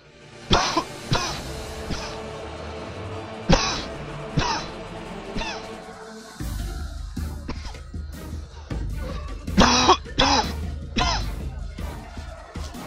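Several sharp coughs burst out in the first few seconds, then more coughing and throat clearing over a rumbling, noisy background.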